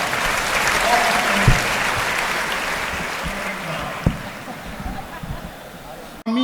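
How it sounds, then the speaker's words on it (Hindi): An audience at a Hindi comedy poetry gathering claps loudly in welcome for poet Ramesh Muskan, a continuous wash of applause with a few sharper knocks, ending abruptly. "एक बार जोरदार तालियां बजाएं उनका स्वागत।"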